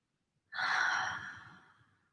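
One deep, slow breath during a yoga session, a soft close exhalation that swells suddenly and fades gradually over about a second and a half, alone in quiet surroundings.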